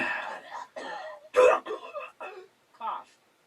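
A single sharp, real cough from a man in a recording studio, loud and close, breaking up his speech with talk before and after it.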